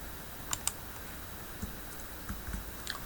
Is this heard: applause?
no